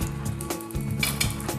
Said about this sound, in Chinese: 來炒一下